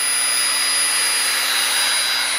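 A Dremel rotary tool polishes a rifle bolt from a CZ 455, a constant high, close whine with a strong steady hiss and no pauses.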